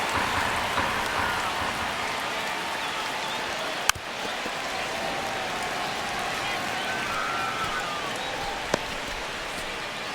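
Stadium crowd ambience from MLB The Show 25 during a ninth-inning Dodgers at Giants game in San Francisco: a steady, broad roar of a large crowd with a couple of sharp isolated cracks, playing beneath commentary.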